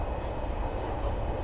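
An ÖBB Railjet New Gen train, RJ 84, runs with a steady, close, dense rumble and rolling wheel noise, continuous and unbroken throughout.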